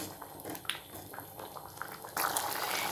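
Potato kuruma with coconut paste bubbles gently in a pan, soft popping and gurgling close by, turning into a louder hiss partway through.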